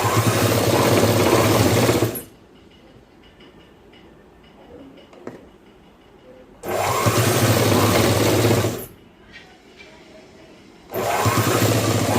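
A sewing machine stitches a boy's school uniform shirt in three loud, steady whirring bursts separated by quiet pauses.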